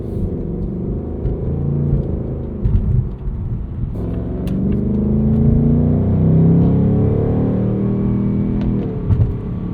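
A 2024 Ford Mustang GT V8 muscle car on a road trip, its engine winding out hard: a loud, close exhaust roar climbing through revs, dropping back at a shift, then building again, with no talk.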